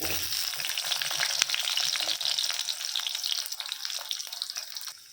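Onions hit hot oil for a masala chicken dish, bursting into a brisk, crackling sizzle close by that gradually settles and fades toward the end, with no voices.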